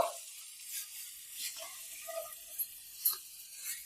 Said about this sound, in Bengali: এখানে আমার তেল গরম হয়ে গেছে আমি এই সবজিগুলো এবার ভেজে নেব